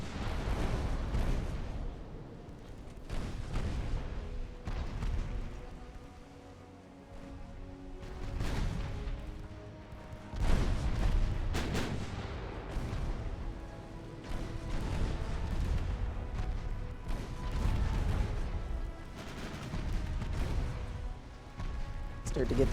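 Battleship guns fire in the naval game Ultimate Admiral: Dreadnoughts, giving deep booming salvos every few seconds over a constant rumble, with talk at times.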